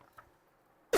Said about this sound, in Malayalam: ചുമ ഇടയ്ക്ക് നമുക്കത് കൺട്രോൾ ചെയ്യാൻ പറ്റുന്ന കാര്യമല്ലല്ലോ